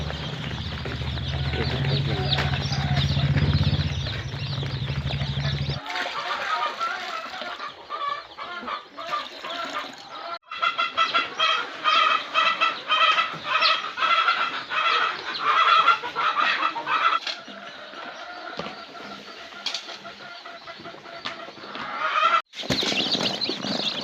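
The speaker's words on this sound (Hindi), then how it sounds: "ये चूजा काउंट होकर के डला रहा है।" A large batch of Sonali chicks cheeps and peeps constantly and densely at close range while being counted out and delivered. Abrupt shifts in the noise suggest crates or boxes being moved.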